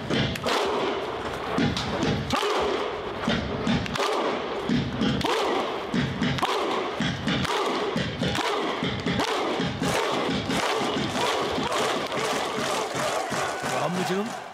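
Icelandic football supporters' Viking thunder clap, a huge crowd striking one clap together with a shouted "huh", heavy thuds repeating in a steady rhythm, loud and echoing.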